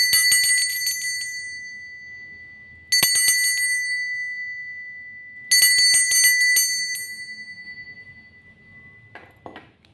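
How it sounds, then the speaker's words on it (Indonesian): A bell rings three times, each a bright metallic ping that slowly fades before the next strike, with faint rustling near the end. "Kita akan melanjutkan dengan ditandai lonceng berbunyi."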